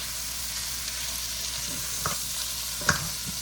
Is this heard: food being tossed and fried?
yes